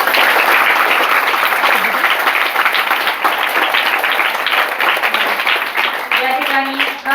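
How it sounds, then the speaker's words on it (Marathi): A school audience at a pre-Independence program breaks into loud, sustained applause, many hands clapping close and dense for about seven seconds before it thins out near the end. "म्हणून यादव सरांसाठी सुद्धा जोरदार टाळ्या."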